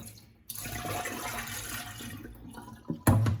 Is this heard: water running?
yes